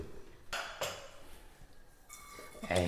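Metal pots and pans clank and clink as they are handled in a home kitchen, a few separate knocks spread across the moment.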